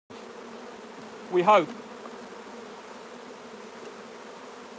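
Honeybees hum steadily around an open hive while a box is prepared for shaken bees, with a brief spoken phrase rising over the drone midway, then the buzzing continuing evenly.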